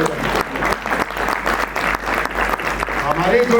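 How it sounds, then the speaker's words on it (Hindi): An audience claps during an address at IMS Ghaziabad, a loud, dense burst of hand claps with a few strong accents, continuing at an even level. "इसके लिए और जोरदार तालियां बजाएं"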